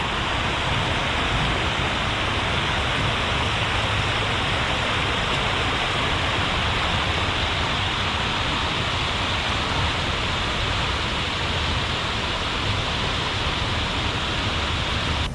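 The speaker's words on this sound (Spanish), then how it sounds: "van a escuchar el agua caer" Water pours steadily into a fountain in Charlotte, a loud, constant broadband rush with no breaks or voices, close and enveloping throughout.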